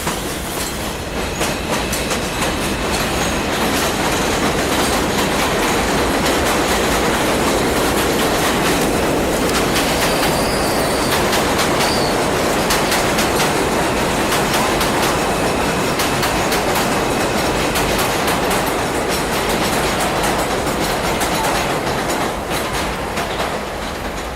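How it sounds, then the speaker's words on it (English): Elevated train in Brooklyn rumbling overhead on cold day, a steady loud roar of wheels and cars with faint clatter sustained throughout, heard from directly below the tracks. "that's the train above"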